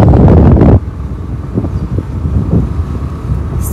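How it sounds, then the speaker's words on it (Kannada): Strong wind buffets the microphone with a loud, heavy roar that drops off abruptly before lighter gusts keep rustling and thumping outdoors. "ಇವಾಗ ಹೇಳಿದ್ರೆ ನಿಮಗೆ ಕೇಳಿಸಲ್ಲ, ಗಾಳಿ ಬೀಸ್ತಾ ಇತ್ತಲ್ಲ ಅದಕ್ಕೆ"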